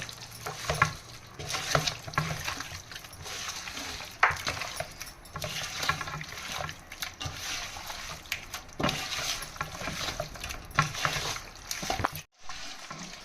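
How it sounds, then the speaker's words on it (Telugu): Mint leaves and fried onions are stirred into a pot of biryani, giving close, steady scraping and clinking of a spoon against the vessel with soft sizzling underneath, running continuously with brief pauses. "ఈ ఫ్రైడ్ ఆనియన్స్, ఈ పుదీనా మొత్తం ఈ ముక్కలు పట్టే విధంగా ఒకసారి కలుపుకుందాం బాగా."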